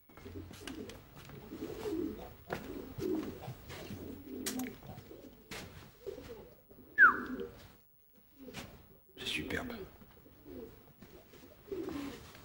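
Pigeons coo in soft, low, repeated phrases, each burst short and close, with brief quiet gaps between and an occasional sharper bird call standing out.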